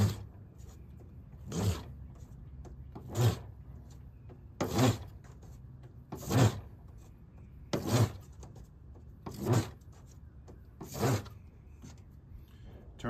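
A paper towel dusted with ashes is rolled tightly into a fire roll, giving seven evenly spaced rasping, rubbing strokes about every second and a half, close up with no talking.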